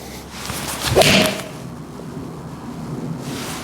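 A Ping G440 or Callaway Elyte game-improvement iron strikes a golf ball: one sharp, fairly dull impact with a short swishing rush around it, near and alone amid quiet outdoor background.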